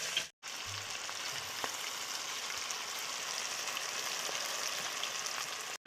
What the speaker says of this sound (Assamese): এতিয়া মাংসখিনি ভাজি লৈছোঁ।